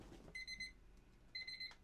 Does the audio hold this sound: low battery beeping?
yes